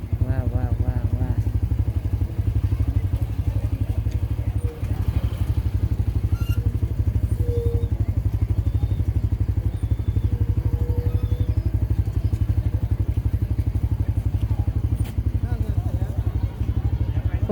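A motorcycle engine runs steadily at a crowded Kulekhani dam, a constant close low drone with occasional clatter and thumps and no pauses throughout.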